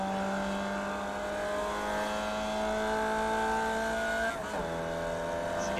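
Race car engine in a sim racing game, a sustained high-pitched whine that rises steadily and then drops sharply near the end as the car shifts or lifts, with faint tire noise underneath and no talk.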